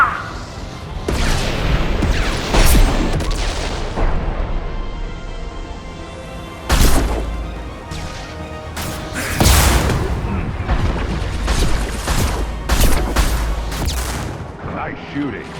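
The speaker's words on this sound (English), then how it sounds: "Nice shooting." Gunfire and booming explosions in the game Mass Effect 2, with loud sharp blasts and heavy impacts recurring throughout a chaotic firefight, with voices speaking between the bursts.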